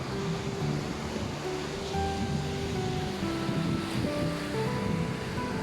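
Sea waves surging onto the fine sand of Al Mughsail beach, a steady continuous roar of surf with wind rumble across the microphone, no voices.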